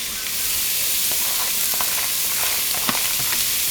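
A pot of Zuppa Toscana soup with crumbled bacon gives a loud, close, continuous sizzling hiss as it is stirred, with scattered clicks and scrapes of the spoon; no talk.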